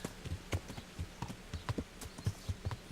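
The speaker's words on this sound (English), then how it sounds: "Alright, maybe we should leave our horse" Horse hooves clip-clop in the medieval video game Kingdom Come: Deliverance, a steady, close, rhythmic trot of repeated thuds over a soft background bed, with no voices.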